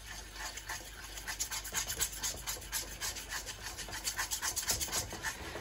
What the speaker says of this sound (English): Keep stirring all the time, otherwise it will go lumpy.